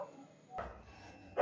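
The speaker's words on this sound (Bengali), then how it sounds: "এখন বাইরে কুকুর ডাকছে" A dog barks outside, heard from indoors as two short, muffled bursts separated by a quiet pause, fairly faint against the room.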